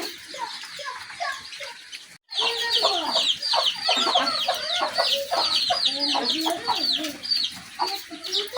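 A hen clucks repeatedly and close by while small chicks peep high and busily around her, with a short gap early on.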